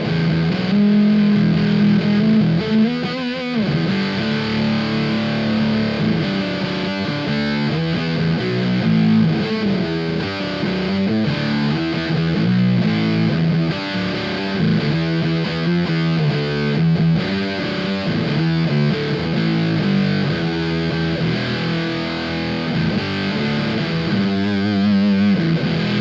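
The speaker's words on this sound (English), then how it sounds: "Angry Big Muff." Guitar driven hard through a Big Muff fuzz pedal in an aggressive setting, a dense, sustained distorted tone with riffing notes, loud and continuous with no talking.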